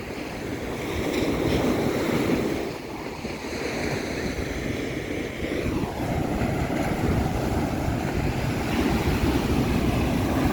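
Sea waves wash and foam up onto a shore in a steady, close roar of surf, with gusts of wind buffeting the microphone and no talking.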